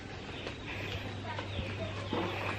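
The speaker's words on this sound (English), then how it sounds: "So we got some chickens." Chickens clucking on a Jamaican country farm where the family also raises a pig, a few scattered short calls over a steady low hum and background noise, with a voice faintly present.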